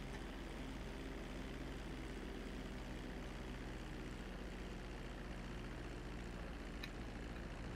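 Airplane flying in the video game Grand Theft Auto 5, a steady droning engine hum held at constant level throughout, fairly quiet and with no talking.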